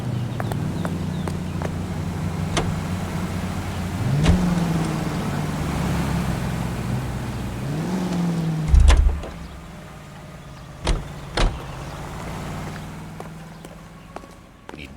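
A car in the video game L.A. Noire drives with a steady low engine hum. The engine swells and revs up twice in rising sweeps, with a few sharp clicks and knocks scattered through and no talking.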